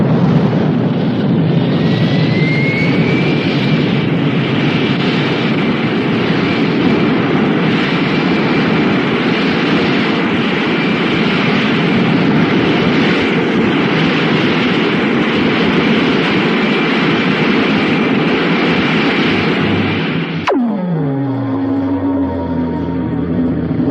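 A loud, sustained roar of rocket engines firing at takeoff fills a 1955 Disneyland Rocket to the Moon ride soundtrack, droning steadily for about twenty seconds before cutting to a lower descending whoosh.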